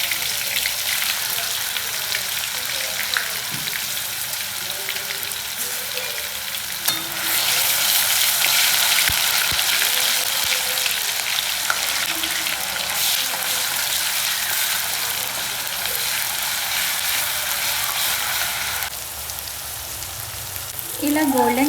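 Ginger paste fries in hot oil, a loud, steady hiss and crackle that surges midway and holds, with faint scraping stirs, close and uninterrupted by talk.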